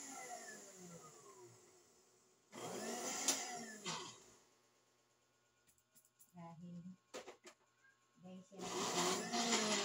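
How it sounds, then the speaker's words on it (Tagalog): A kitchen blender whirs in loud bursts, stopping and starting, with a person talking in between and clatter of the jar. "I-blender ko muna."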